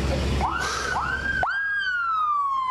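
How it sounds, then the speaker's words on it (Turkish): Ambulance sirens wail through a street in Kahramanmaraş after the earthquake, with several rising sweeps that then hold and slowly fall. They are loud and close, with no talk over them. "Ambulanslar şu anda başka mahallelere doğru ilerliyor."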